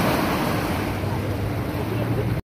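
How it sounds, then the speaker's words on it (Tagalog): Continuous surf churning and washing against rocks along the Corniche, a loud rolling roar that cuts off abruptly near the end. "pinapanood na lang yung mga alon na humahampas sa mga bato"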